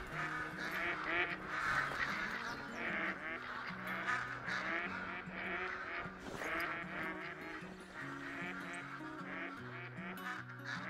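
A large flock of ducks and geese in the Call of the Wild hunting game, set in the New England mountains, honk and quack continuously in dense overlapping calls, loud and close throughout with no pauses.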